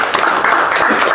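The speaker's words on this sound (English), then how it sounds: "Can you give a big round of applause?" Audience applause at a live hypnosis masterclass, a dense continuous wash of clapping that stays loud and steady from start to finish, with no pause in the sound.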